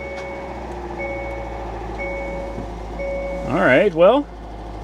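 A salvage car with only 3,940 miles at a Copart yard sits running, its engine tapping, giving a steady low idle hum that continues under nearby talking and a brief drawn-out vocal exclamation.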